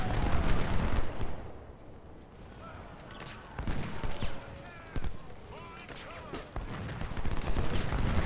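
Gunfire in the video game Ultimate General: Civil War, Civil War battle volleys crackling and booming at a distance in several bursts, with someone talking over parts of it.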